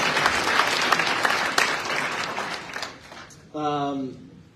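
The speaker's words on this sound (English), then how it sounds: "we will just do a round of applause for all of you" A round of applause from a standing crowd at a county officials' public meeting on a sex offender housing facility, dense clapping for about three seconds before it fades and a voice speaks near the end.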